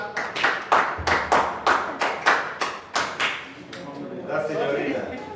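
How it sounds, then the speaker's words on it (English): An audience at an annual teachers' conference claps together in time, giving about a dozen sharp, evenly spaced unison claps before breaking into looser, softer clapping mixed with voices. "when I say Calavana, you clap"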